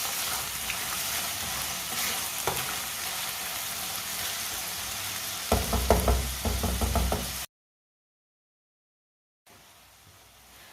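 Peas being stirred and fried in a pan, a steady sizzle with a burst of spatula knocks and scraping near the end before the sound cuts to silence, then faint noise returns.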